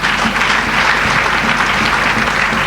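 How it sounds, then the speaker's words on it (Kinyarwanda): A church congregation claps for Jesus, dense steady applause filling the room at full volume with no voices on top. "Mwakomeye Yesu amashyi"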